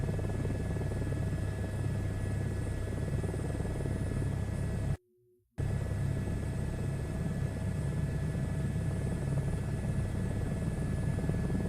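Helicopter rotor drone in a flight simulator game, a steady loud whirring hum with constant engine tone throughout, cut by a brief silent gap near the middle.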